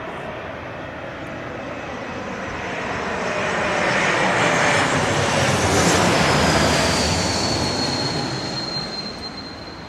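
Aircraft with new CF6 engines landing, a loud broadband jet roar that swells to a peak mid-way and then eases off, with a high whine gliding downward as the plane passes close by.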